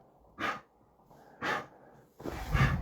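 A dog breathes and snorts indoors in three sharp, close bursts spaced about a second apart, the last longer and rougher, with quiet room sound between.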